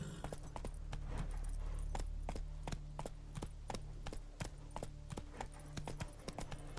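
Horse hooves clip-clop in Witcher 3 as a steady, brisk run of sharp taps over a low continuous rumble, moderately faint.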